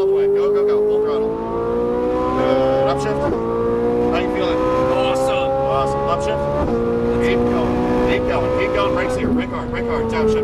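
A Ferrari 458 Italia engine winds up at full throttle on track, its pitch climbing steadily through three rising sweeps broken by quick upshifts, loud and close, with an instructor's voice speaking over it.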